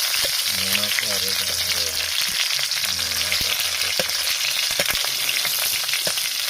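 Onions fry in hot oil with a dense, continuous sizzle, punctuated by stirring scrapes and clinks of a utensil against the pan, heard up close in a home kitchen.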